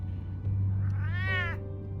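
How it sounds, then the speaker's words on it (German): A cat meows once in the Batman: The Telltale Series video game, a single clear rising-then-falling mew heard over a steady low background hum, with no talking. "die schönste Katze der Welt"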